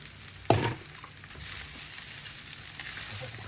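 Vegetable fried rice is stirred in a hot pan: a sharp scrape of the spatula opens, followed by a soft, steady sizzle and faint occasional stirring sounds, close and without speech.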